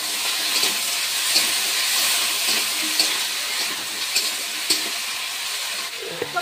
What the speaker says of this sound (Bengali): তো তেলটা হয়ে গিয়েছে, এবার কলা আলুটা দিয়ে দিচ্ছি